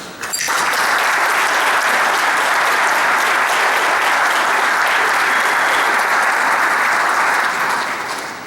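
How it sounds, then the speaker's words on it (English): Loud, dense audience applause for veterans at a commemoration ceremony fills the room in a continuous roar of many hands, steady from start to finish. "They deserve an applause"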